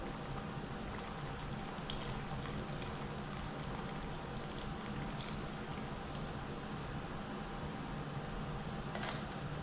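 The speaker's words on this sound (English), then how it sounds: "I'm gonna give it a stir, and it's gotta come back up to a boil again" A pot of Creole gumbo with shrimp, chicken, sausage, crawfish and roux simmers toward a boil, giving a faint, steady bubbling crackle with scattered soft pops and drips throughout.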